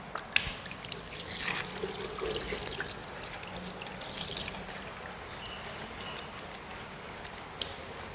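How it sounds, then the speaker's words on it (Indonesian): Hands being washed with soap under running water before a physical examination, a steady close trickle and splash of flowing water with small taps and clicks, fairly quiet, no talk. "cuci tangan terlebih dahulu dengan air mengalir dan menggunakan sabun"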